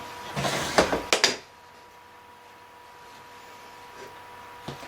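A weaving loom's shuttle passes through the shed and the beater knocks the weft snug in a quick cluster of wooden clacks and thumps, close by, followed by near-silence and one faint knock.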